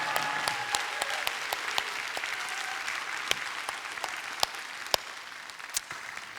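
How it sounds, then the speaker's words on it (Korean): A church congregation at an evening revival service in a Korean church in Los Angeles claps together in sustained applause, a dense wash of many hands with a few sharper claps standing out, steady throughout with no speech over it. "우리 자녀들 위해서 한번 박수로."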